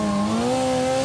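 A group of motorcyclists at a street demonstration revving their engines, a steady loud engine drone with rising harmonic pitch, continuous throughout with no voices.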